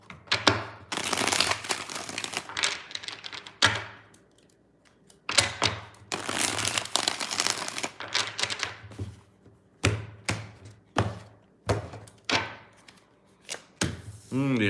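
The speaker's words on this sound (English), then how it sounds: "Two more shuffles, two more." Tarot cards being shuffled by hand during a card reading, several separate bursts of riffling and tapping with short pauses between them, close and fairly quiet, with no talk.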